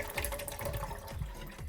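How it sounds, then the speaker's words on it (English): Fresh water pours from a bottle into the water tank of a Keurig K-Iced coffee maker, a continuous gurgling splash with bubbling pulses, close and fairly loud. "fill this empty bottle with fresh water and pour that into the tank"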